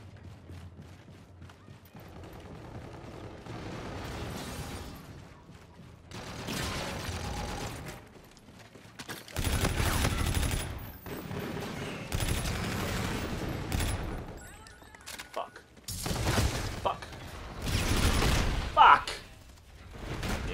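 Bursts of automatic gunfire from a first-person shooter video game come in rapid rattling volleys separated by quieter gaps, with players talking over parts of the action.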